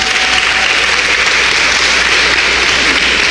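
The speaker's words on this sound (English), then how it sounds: "Give them a round of applause." Loud, sustained clapping from a convention audience greeting panelists, a dense even roar of hands with no talk over it.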